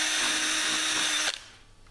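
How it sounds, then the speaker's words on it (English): A cordless drill bores through a vacuum-formed plastic case for a speaker grille, giving a loud, steady whine for over a second that stops abruptly as the bit breaks through, leaving a faint rattle. "then I'm using a cordless drill"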